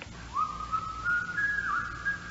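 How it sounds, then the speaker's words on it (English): A person whistles the tune Yankee Doodle in a radio mystery drama, a clear melodic line carrying steadily through the whole passage with no talk over it. "Somebody's whistling. It's Yankee Doodle."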